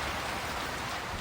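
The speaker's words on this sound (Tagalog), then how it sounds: "Umalakas ang hangin at ulan." Steady heavy rain with gusting wind during a storm in Baguio's City of Pines, near-zero visibility and flooding; a dense, continuous wash of noise without pause or voices.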